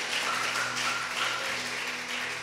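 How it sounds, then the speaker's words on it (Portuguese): A church congregation claps for a member of the theatre ministry, a dense, steady burst of applause close by that fills the whole moment without letup. "Vamos aplaudir a Cassiane"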